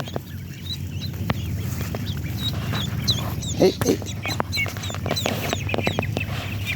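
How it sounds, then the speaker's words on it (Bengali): A small duck gives repeated high, thin peeping calls in a waterlogged rural spot, with other fowl clucking nearby and people talking in the background. "এই যে একটা ছোট্ট হাঁস এই"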